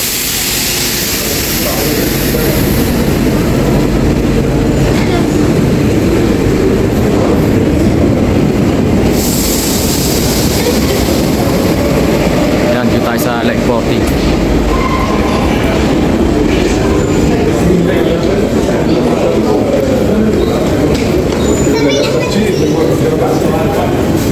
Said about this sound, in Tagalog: Dahil lilipat tayo ng metro sa line 14.